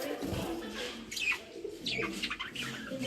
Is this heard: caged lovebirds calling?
yes